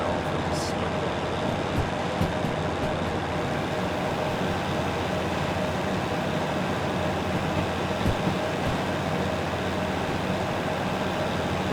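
A DH4 diesel locomotive runs in the Derail Valley train simulator, a steady, dense rumble of engine and rail noise that holds at an even loudness throughout, with a few faint knocks on top.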